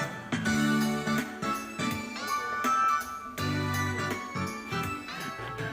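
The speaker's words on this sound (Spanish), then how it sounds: "esto obviamente tiene una música repetitiva de RPG" A bouncy, looping chiptune-style RPG shop tune with bell-like melody and plucky bass repeats in short phrases, playing steadily on its own.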